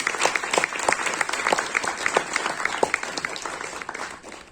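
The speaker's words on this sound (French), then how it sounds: "nous applaudissons très fort" A crowd at a traditional song competition finale applauds loudly, many distinct sharp claps in a lively continuous patter that fades slightly toward the end.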